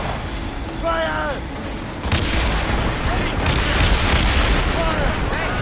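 Ship cannons booming in Assassin's Creed Rogue during a naval battle, a dense continuous barrage of heavy blasts over rumbling sea noise, with shouted voices and orders in between.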